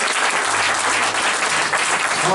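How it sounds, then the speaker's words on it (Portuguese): A church congregation claps loudly and continuously, a thick, even wash of applause with a faint low hum underneath. "Um aplauso para o Senhor que é grande."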